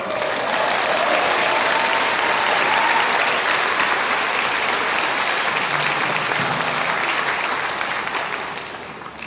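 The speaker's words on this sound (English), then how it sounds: "One more round of applause." Sustained audience applause fills a Fourth of July outdoor concert, a dense, steady wash of clapping from a large crowd that holds loud for most of its length before easing off near the end.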